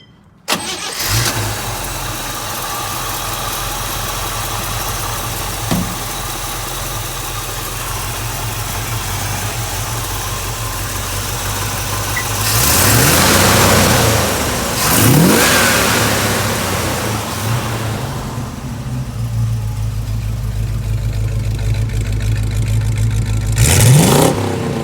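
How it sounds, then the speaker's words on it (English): A 1959 Chevrolet Apache 31 Napco 4x4 pickup truck cranks and starts, settles into a rumbling idle, then is revved up in several loud swells before dropping back to idle, heard up close with no talking. "I just want to show you how the engine revs. I'm going to start it up."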